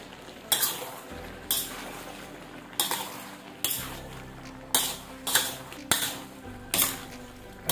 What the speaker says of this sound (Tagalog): Lagay natin tong quail egg at yung chicken liver natin kanina, i-fry.